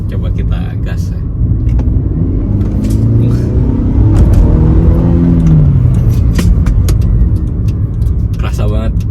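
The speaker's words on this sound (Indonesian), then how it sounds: "Coba kita gas ya." A Mercedes-Benz W204 C200 Avantgarde engine is revved, a close, low rumble swelling and easing in pitch under a man's speech.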